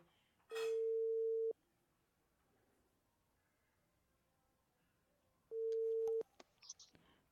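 WhatsApp voice call ringing tone, two long steady electronic beeps separated by several seconds of quiet, clear and close, followed by faint clicks.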